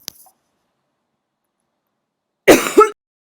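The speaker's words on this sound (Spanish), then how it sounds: "con la tos ya veo que empiezo a resentirme" A few close coughs from a person with a cough, a brief rough burst in two pulses after a tiny click and a long stretch of silence, with no talking.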